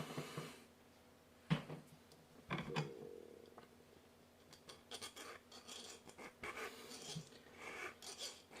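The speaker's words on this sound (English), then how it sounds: "So just give that a few scrapes with the file to remove that bit of solder." A metal file rasps solder off a white metal model locomotive chassis part, a Finecast LB&SCR I3 kit, in short, irregular scraping strokes, close and fairly quiet, with small clinks and pauses between bursts.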